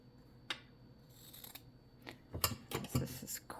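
Scissors snip through thick craft material in a handful of sharp, close cuts, scattered singly at first and then coming faster in a cluster near the end, with no talking.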